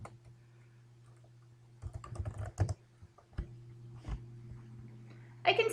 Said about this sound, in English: type into Google, children too much television